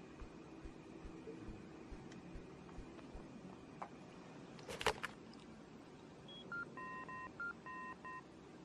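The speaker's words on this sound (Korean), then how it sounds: "타일러한테 전화를 하려는데?" Touch-tone phone dialing in the PS2 game Indigo Prophecy: a quick run of clear electronic DTMF beeps near the end, preceded by a brief clatter, over a steady low hum of background game ambience.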